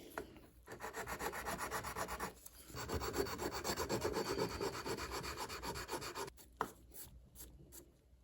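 Hand sanding wooden knife scales on a Woodcraft knife kit, a steady, close scratchy rubbing in long continuous passes with a couple of short pauses and a brief knock near the end.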